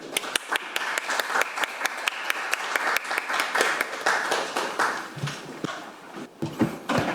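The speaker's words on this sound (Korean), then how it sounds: "총괄의료원장님을 다시 한번 큰 박수로 맞아주시기 바랍니다" An audience at a Korean healthcare-innovation forum applauds to welcome a chief medical director to the podium, with dense, steady clapping from a full room that holds for several seconds before thinning out near the end.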